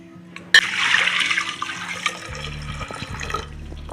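Elephant foot yam tubers are rinsed by hand in water in a home kitchen, giving a steady splashing, running-water wash after a sharp clatter near the start, with low clunks of the tubers knocking in the vessel.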